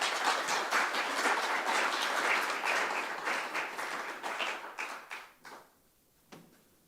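Audience applause at the City of Mount Gambier Australia Day Awards presentation, a warm burst of many hands clapping that holds steady, then thins out into a few scattered claps and fades.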